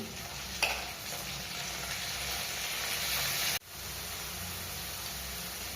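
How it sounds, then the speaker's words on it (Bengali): Onion and garlic paste sizzles steadily in a pan of fried onions, a close, even hiss that breaks off briefly and then carries on. "পেঁয়াজটা ভাজা হয়ে গেছে। এবারে আমি পেঁয়াজ বাটা রসুন বাটা দিয়ে দিচ্ছি।"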